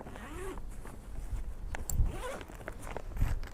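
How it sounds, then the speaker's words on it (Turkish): A zipper on a rifle equipment bag is drawn open in a few short rasping pulls, close and fairly quiet, with light handling noise between strokes. "Fermuarı açtığınız zaman"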